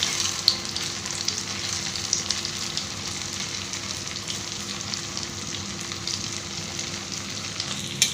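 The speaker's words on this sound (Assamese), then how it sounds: "তেলটো গৰম হ'ল, এতিয়া মই এইটো কেৰাহীত" Banana flower pakoda sizzling in hot oil in a wok, a dense continuous crackling fry heard close and steady throughout, with a few sharper pops and faint clinks.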